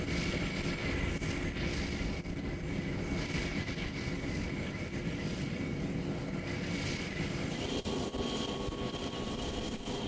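A relief goods aircraft preparing for a flight to Pakistan, its engines running in a steady, loud, continuous roar for the whole stretch, with no talk over it.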